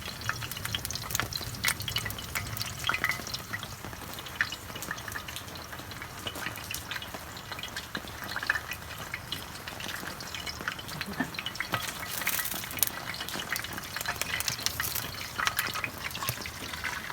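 Oil heating and bubbling in a cooking pan while preparing an African-style dish, a steady close frying crackle and sizzle with occasional stirring clinks, no talking.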